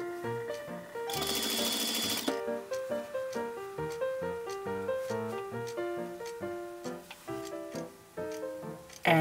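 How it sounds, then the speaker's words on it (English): A sewing machine stitches peach binding onto fabric, running in steady rhythmic bursts over a bright musical backing, with a brief loud hiss early on. "I'm actually going to stitch it around"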